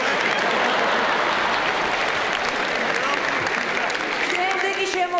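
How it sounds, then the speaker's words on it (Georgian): An audience at a televised humor festival applauds warmly, a dense, steady wash of clapping that stays loud throughout, with a voice speaking over it near the end. "აბა, ტაშით გავაცილოთ"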